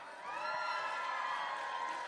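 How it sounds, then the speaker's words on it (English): A large indoor audience at a prelims competition in Orlando, Florida cheers, whoops and yells in a continuous roar, loud and sustained from start to finish without a break. "Anyone in the room, yell, scream, cheer if you're not from Los Alamitos,"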